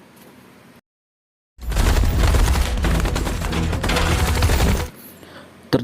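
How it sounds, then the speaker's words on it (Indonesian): A volley of gunfire in an action film fight scene: after a brief silent gap, a dense, loud burst of rapid shots and impacts rolls for about three seconds, then cuts to quiet background. "Terjadilah baku hantam dan tembakan beruntun."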